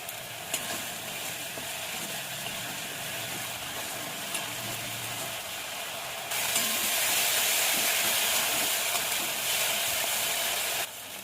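Tomato paste sizzles and fries steadily in a pan during cooking of a jackfruit curry, a continuous hiss that grows louder and brighter partway through, with occasional stirring scrapes and no talking.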